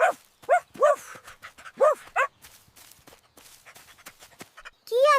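A dog lets out a quick run of high, yelping barks in short bursts, pauses with faint rustling, then yelps once more at the end, all close and clear.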